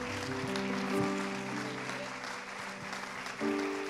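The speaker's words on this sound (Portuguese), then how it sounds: "aplauda mais forte" Steady applause fills a church during a family celebration service, with sustained musical tones running underneath the clapping.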